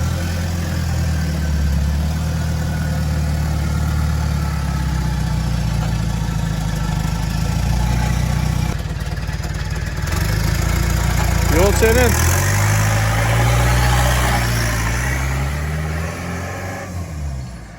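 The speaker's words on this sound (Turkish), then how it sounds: "Turbo sesi buraya kadar geliyor." A Land Rover Defender 130 fitted with a Nissan BD30 turbo diesel engine idles loudly and steadily, then revs with a rising turbo whistle. A newly fitted exhaust knocks against the old one, and someone speaks briefly over the engine.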